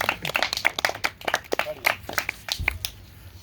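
A small group claps for a senior boys' runner at a team gathering, a quick burst of close, uneven hand claps lasting a few seconds and then fading out.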